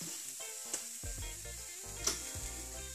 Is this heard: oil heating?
yes